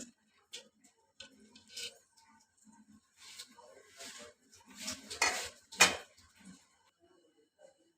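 A spoon moves gently through rice in a pot of water seasoned with salt and lemon, giving soft scrapes and light clinks against the pot, close and quiet with a few faint sounds between them.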